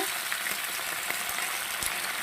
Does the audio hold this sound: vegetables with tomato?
yes